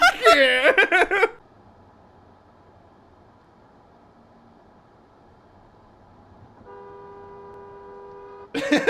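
A car horn on the road holds a steady, sustained honk that starts quietly and swells near the end, after a burst of giggling and laughter at the start, with voices returning at the close.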